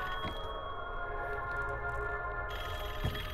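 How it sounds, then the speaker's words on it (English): A telephone rings in Call of Duty: Black Ops 6, a steady electronic ringtone tone running continuously and fairly close over low game ambience, with no talking. "Answer the phone."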